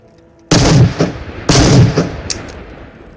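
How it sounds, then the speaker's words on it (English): Two loud, booming blasts from a side-by-side double-barreled Soviet hunting shotgun in the VR game Into The Radius, one shot per barrel about a second apart, each trailing off in a short rumbling tail. "the hunting shotgun, a side-by-side double-barreled Soviet shotgun"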